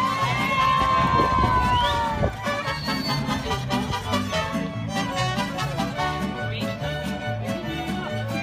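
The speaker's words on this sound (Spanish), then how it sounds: "A ver esos gritos." A party crowd at a quinceañera cheers and shouts over loud festive music with a steady beat, voices rising in bursts early on before blending into the ongoing music.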